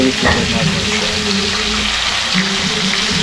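Mustard seeds hit hot oil in a pan for a village-style fish fry, crackling and sizzling loudly and steadily from close by, with some stirring noise mixed in.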